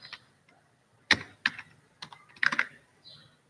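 Computer keyboard typing, a few sparse, quiet key clicks in uneven bursts with near silence between them.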